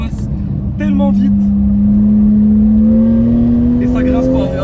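Porsche 911 with a PDK dual-clutch gearbox on a race track, its engine note rising steadily and loud through a long pull in one gear, up close, with brief talk over it early on.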